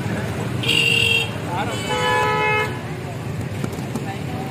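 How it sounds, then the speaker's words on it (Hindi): Traffic jam at Sangla Wala Chowk with car horns tooting in long overlapping blasts over a steady roadway rumble, a couple of horns sounding nearby. "चौक संगला वाला में जी ये ट्रैफिक जाम हुई है"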